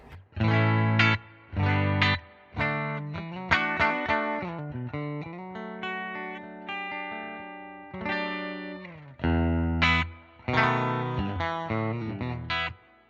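A clean electric guitar played through a pedalboard into a Fender Princeton amp rings out in strummed chords and melodic single-note lines with sustained, shimmering tones, close and alone without talk.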